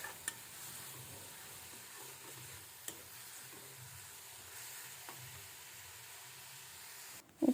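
Fish stirred in a pan with salt and turmeric, giving a faint, low sizzle under occasional light clicks and taps of a utensil against the pan, with a louder scrape right at the end.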